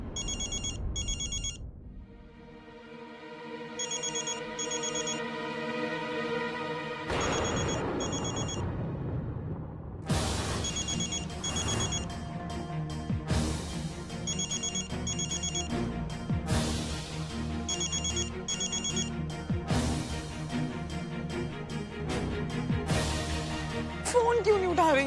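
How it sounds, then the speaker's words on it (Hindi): A telephone rings on and on unanswered in a Hindi drama scene, repeated bursts of bright electronic ringing over a dramatic music score, the pattern recurring several times across the stretch. "फोन क्यों नहीं उठा रही हैं?"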